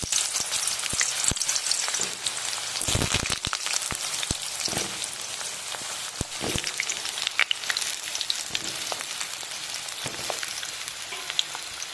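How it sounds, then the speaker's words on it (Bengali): Potatoes frying in hot oil in a pan, a dense and constant crackling sizzle with sharp pops and occasional stirring clatter, close and fairly loud throughout. "গরম হয়ে গেছে, আলুগুলো আমি ভেজে নেব।"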